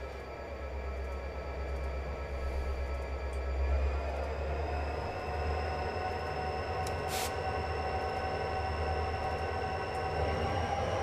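A freight train climbs slowly uphill on the Mount Shasta Line in Train Simulator 2022, with a continuous heavy rumble of engine and wheels, a steady drone throughout and a brief higher squeal midway, no talk.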